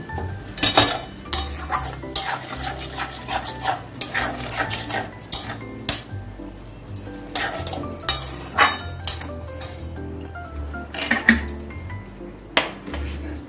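Curry masala with potatoes sautéing in a pan, dominated by frequent metallic scrapes and clinks of a spoon stirring against the pan, with a soft sizzle underneath.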